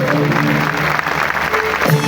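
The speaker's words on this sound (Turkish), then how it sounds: "alkışlarınızla sahneye davet ediyorum efendim" Steady applause from a crowd at an award ceremony as a guest is invited onto the stage, dense and continuous throughout, with a faint voice surfacing near the end.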